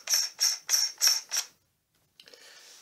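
A camera adapter is screwed onto a telescope T-ring, making five quick, close ratcheting clicks in even rhythm, then a short silence and a faint metallic scrape.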